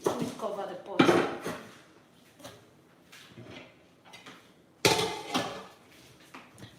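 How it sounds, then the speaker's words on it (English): A cooking pot is covered with its lid, giving a few clattering metallic clanks and knocks, one loud near the start and another sharp clang later, with a voice talking in between. "Let me cover the pot."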